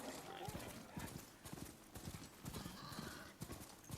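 Horse hooves clip-clop steadily at a trot in the open-world game Horizon Forbidden West, close and fairly loud, with a snort or whinny mixed in and a voice talking over the hoofbeats.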